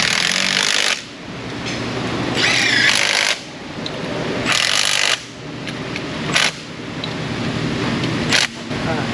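In an auto repair shop, a power tool tightens radiator bolts. It whirs in several short bursts at uneven intervals over constant shop background noise.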